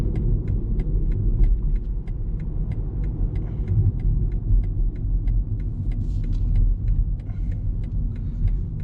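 A 2020 BMW 118i with a three-cylinder engine driving through corners, heard from inside as a steady low rumble of engine and road noise with a faint regular ticking, no voices.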